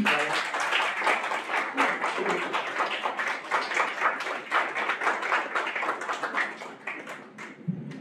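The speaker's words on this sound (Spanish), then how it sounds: "Un aplauso, por favor, para el arquitecto." A small audience claps for the architect at a talk, a light, fairly sparse patter of hands that holds for several seconds and then thins out toward the end.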